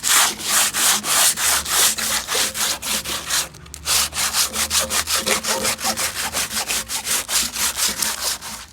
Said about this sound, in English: Very light sanding, that's all I'm going to be doing.